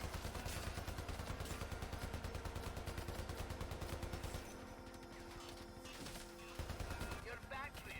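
Video-game weapons fire in loud, rapid, continuous bursts, ease into a quieter stretch with scattered shots, then open up again near the end.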